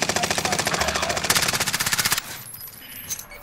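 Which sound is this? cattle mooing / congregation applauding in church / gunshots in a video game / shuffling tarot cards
gunshots in a video game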